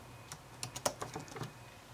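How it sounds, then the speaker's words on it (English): Several quick, crisp key taps on a computer keyboard come in a short irregular burst, close and soft against a quiet background. "I believe I typed in the cartridge name"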